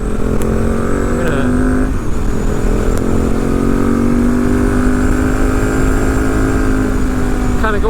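A 2014 KTM 1290 Super Duke runs steadily beneath a voice as it is ridden, with a continuous engine drone that holds and shifts slightly in pitch throughout.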